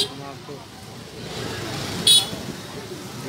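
Busy market street traffic in a reopened bazaar, cars and motorbikes rumbling past with a short horn toot, voices murmuring over the roadway noise.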